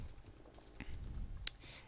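Light typing on a computer keyboard, a quick patter of soft clicks with one sharper keystroke near the end, close but faint.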